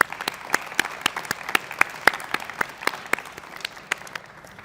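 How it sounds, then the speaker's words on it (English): Applause at an adult education graduation ceremony for Copper Mountain College's senior cabinet and Board of Trustees: a light, scattered round of individual claps that come through distinctly, close and irregular, without talk. "Can you all join me in giving our senior cabinet and our Board of Trustees a round of applause?"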